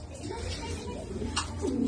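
A racing pigeon coos low and soft against steady background noise, with muffled voices nearby.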